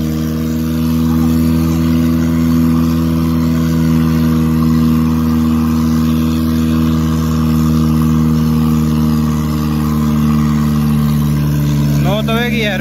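Mahindra 585 DI Plus tractor engine pulling an 18-disc harrow, a steady loud diesel drone with strong low harmonics running throughout, with a brief burst of higher sound near the end.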